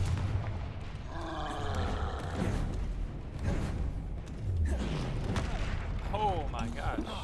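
Confringo fire spell explosions in Hogwarts Legacy burst repeatedly amid dense game combat noise and music, with someone talking over them.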